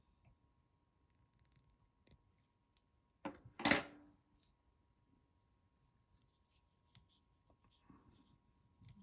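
Scissors snip fly-tying material on a hook shank, giving one sharp, close cut amid a few faint clicks in an otherwise quiet space.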